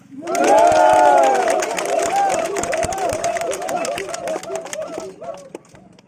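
A large crowd at an outdoor community gathering bursts into loud cheering and shouting with rapid applause, swelling quickly then tapering off over several seconds.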